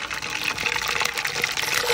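Garlic sizzles in hot pure mustard oil with panch phoron spices, a dense steady frying hiss filling the whole moment at close range.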